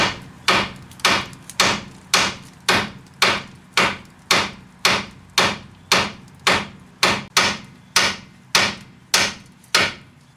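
A hammer repeatedly smacks the steering knuckle of a 2002 Mitsubishi Lancer to free the outer tie rod: about eighteen sharp, loud metallic blows in a steady, even rhythm, close by with no talking.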